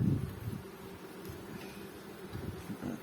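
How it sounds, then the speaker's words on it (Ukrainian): Low, steady insect buzzing fills the clip, a dense droning hum like many Carniolan honey bees close by at a full hive, with no voices. "Це вулик повний бджоли"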